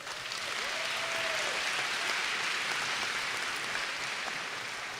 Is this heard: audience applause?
yes